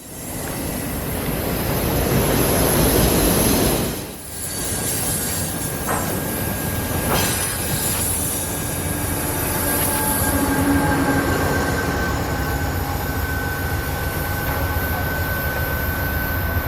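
A rerouted train passes on the W&A railroad, a loud, continuous rumble of wheels on rail with clicking joints and faint squeal that holds steady for over fifteen seconds.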